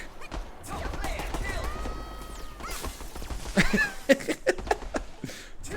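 Rapid bursts of turret gunfire in a video game, crackling through a busy mix of game effects with someone talking over it, growing denser toward the end.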